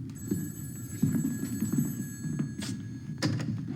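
A telephone rings with a low, throbbing buzz that repeats steadily in the background, along with a few soft thuds. No one speaks.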